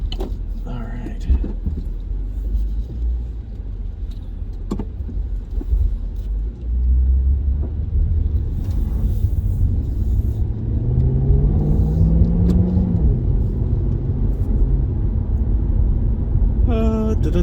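Chevrolet SS driving along a road, heard from inside the cabin as a loud low engine rumble that swells into a rising acceleration pull partway through, with someone talking over the drive.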